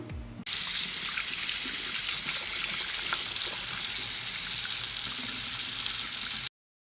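Tap water runs steadily from a bathroom faucet into a sink while teeth are rinsed, a continuous close splashing flow that starts abruptly after a brief quiet moment and carries on unbroken.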